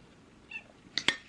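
A house cat meows indoors, one faint short call followed by two sharper, louder meows close together near the end.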